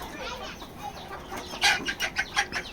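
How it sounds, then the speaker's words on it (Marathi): Several free-range desi chickens recovering from coryza cluck in short, rhythmic bursts near the microphone, the clucks growing louder and more frequent toward the end. "हे बघा सर्व अशा कोंबड्या मस्त आलेल्या आहेत"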